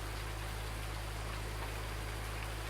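Steady rain in the video game Farming Simulator 19 hisses as an even, continuous wash of noise over a low engine drone, with no breaks and no voices.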